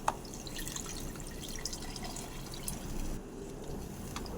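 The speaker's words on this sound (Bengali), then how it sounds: "এরপর আমি পরিমাণ মতো জল দিয়ে দিচ্ছি।" Water poured into a pot of rice for pilau, twice the volume of the rice, making a steady watery wash with scattered drips and splashes throughout, close and moderately loud, with no talking.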